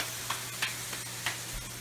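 Burgers fry and sizzle in a pan, a faint steady hiss with a few soft stirring scrapes and clicks at intervals.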